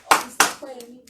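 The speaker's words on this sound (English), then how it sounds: "Please clap for Femi." A few people clap for someone named Femi during a live hangout chat: two sharp bursts of handclaps, then scattered lighter claps fading under a brief voice.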